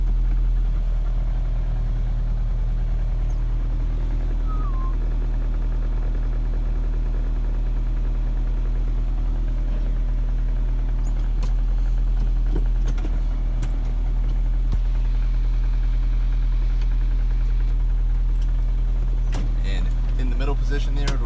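A 1991 Nissan Atlas tipper truck engine idles steadily with power take-off engaged, a deep, constant low drone, a slight shift in tone partway through, and a few faint clicks and knocks over it.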